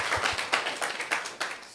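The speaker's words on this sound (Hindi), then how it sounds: "ताली बजा दीजिए यार लोगों को" Children clapping together in a classroom, a short, moderately faint round of uneven claps in a loose rhythm of about a dozen hits, with no voices over it.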